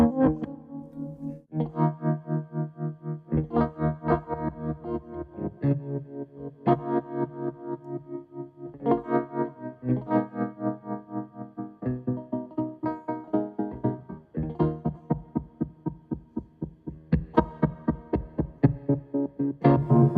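Clean electric guitar chords through a Stone Deaf Tremotron tremolo pedal, pulsing with a steady tremolo, the volume rising and falling rhythmically as the player strums through changing shapes.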